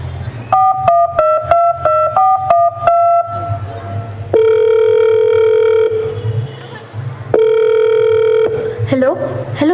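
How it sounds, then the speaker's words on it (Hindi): A telephone call from a Hindi school skit: a rapid run of loud keypad dialing beeps, then long, steady ringing call tones that repeat with short gaps. "मैं अपने बेटे को फोन लगाती हूँ"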